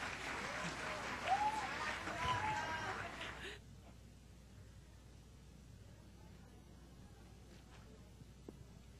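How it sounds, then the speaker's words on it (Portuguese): Applause in an auditorium at a seminar, a dense burst of clapping for about three and a half seconds that stops abruptly, leaving quiet room tone with a faint click. "Uma salva de palmas para mim."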